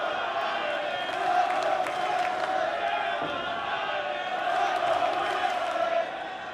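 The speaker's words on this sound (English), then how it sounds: "listen to that crowd" A packed wrestling crowd at an outdoor stadium show roars and cheers throughout, a loud sustained wall of voices swelling in waves and dipping briefly near the end.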